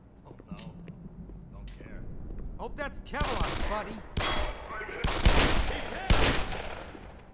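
Gunfire in the video game Black Mesa comes as several sharp bursts of shots spaced about a second apart, mixed with voices talking over the game sound.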